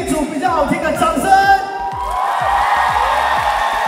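A live audience at a Chinese New Year stage show cheers and claps to vote for the Danny group, a shrill burst of whoops and shouting followed by a steady, dense crowd roar.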